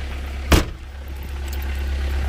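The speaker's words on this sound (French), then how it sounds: "Démarre ma bagnole, s'il te plaît." A car engine catching with a sharp burst from the starter, then settling into a steady, low idle that hums on close by, with no talk.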